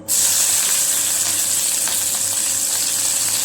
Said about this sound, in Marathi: मिरची टाकूया. तेल गरम झालं